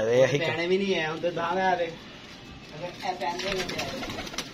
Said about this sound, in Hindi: अच्छा अच्छा है मटू वाला कबूतर